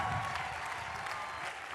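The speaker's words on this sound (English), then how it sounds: "One last applause then for the Peabody Group of" A crowd at a class day ceremony claps steadily in sustained, dense applause that carries on evenly from start to finish without speech.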